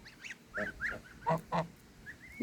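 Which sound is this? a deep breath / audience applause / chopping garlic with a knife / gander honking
gander honking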